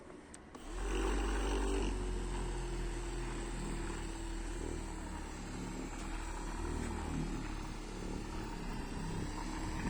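A Worx cordless polishing machine starts up and runs steadily: a loud, close, continuous motor whine and buzzing drone with a slight warble, holding level after the initial spin-up.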